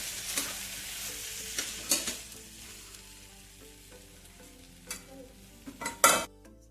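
Okra and potatoes fry in a pan with a steady low sizzle, broken by a few sharp scrapes of a spoon stirring and lifting them off the bottom, the loudest stroke near the end; no one speaks.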